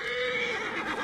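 A horse whinnies in Assassin's Creed Origins, one loud, close neigh filling the short moment with no talk over it.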